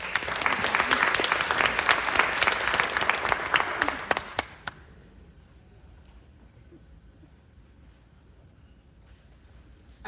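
Audience applause at a Bragg ambassador pinning ceremony, a dense burst of clapping that holds for about four seconds, then breaks off into quiet room tone.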